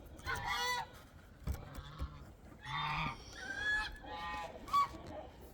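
Peahens call outdoors in a few loud, harmonic honking bursts, some near and some farther off, with quiet gaps and yard ambience between them.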